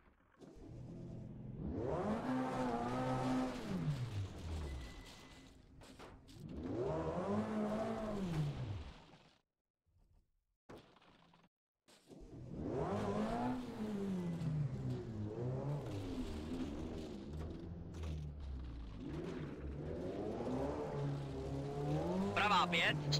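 VW Golf II GTI 16V Group A rally car engine in a video game, rising and falling revs through repeated gear changes with a brief near-silent gap midway, over a co-driver calling pace notes.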